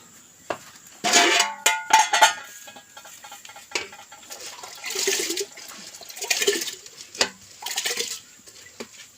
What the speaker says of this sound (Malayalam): ഇനി അരി കഴുകാം.